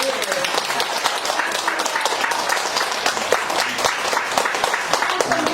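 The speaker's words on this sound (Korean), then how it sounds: "박수 한번 쳐줄까요?" A church congregation claps together after a hymn during a sermon, a dense, even round of applause that carries on at full strength for several seconds.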